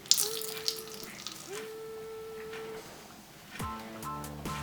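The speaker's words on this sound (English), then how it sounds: "So let me rinse and let's see." Tap water runs softly while a makeup brush is rinsed at a sink after using a brush cleaning device. Faint, steady splashing sits under intermittent steady tones and a few brief clicks.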